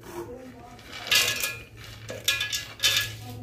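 Peanuts tipped into a steel mixer-grinder jar on top of coconut while making coconut chutney, giving several bright clattering rattles and pours of nuts against metal, fairly close, with a low steady hum underneath.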